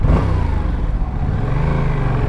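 A Yamaha R7 motorcycle engine revs up, a loud, close, throaty drone whose pitch climbs partway through before holding steady.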